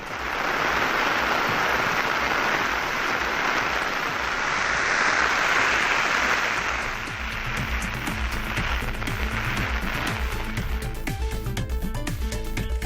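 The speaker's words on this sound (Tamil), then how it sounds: "கோவை மாவட்டம் வால்பாறையில் கனமழை பெய்தது." Heavy rain pouring down in Valparai in the Coimbatore hills, a steady loud hiss of falling water throughout, shifting toward sharper patter and drips in the second half.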